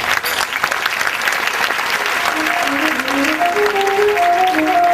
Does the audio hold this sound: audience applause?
yes